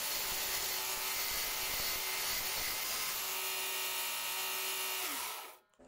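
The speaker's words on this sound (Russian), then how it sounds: "Теперь оттачиваем его под конус." A shortened steel bolt is ground down into a cone shape, a steady, loud abrasive whine that runs continuously for about five seconds before cutting out abruptly near the end.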